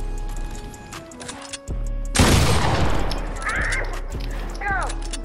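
Video-game gunfire in a pop-up cup match: a sudden loud burst of shots about midway, followed by rattling reports with a few chirpy squeaks, over constant background tones.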